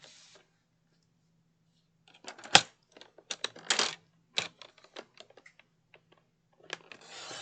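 A paper trimmer cutting card in a quiet room: scattered sharp clicks and short rasping slides near the mic, in irregular bursts separated by silence, with a louder snap near the start of the cutting.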